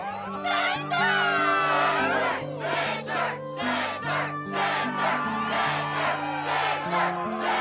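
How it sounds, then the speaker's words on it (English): A crowd in the video game Kingdom Hearts 2 cheers at a struggle tournament, rhythmic chanting and shouting in repeated bursts over a steady musical backing. "the crowd is fired up"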